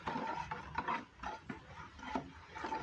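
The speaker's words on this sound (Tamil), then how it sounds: "கலக்கி இது விளக்காலே நான் கலக்கிறேன்" A brass puja lamp stirring a mixture in a bowl, a quiet scraping and rubbing sound repeated in uneven strokes, close by and soft, with no voices.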